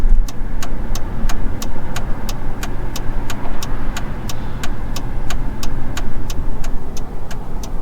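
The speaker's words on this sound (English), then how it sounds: "Nothing but traffic." Interstate traffic rushing past the roadside where a broken-down car with a transmission fault waits for a tow: a steady, loud, unbroken roar of vehicles with a regular ticking click repeating throughout.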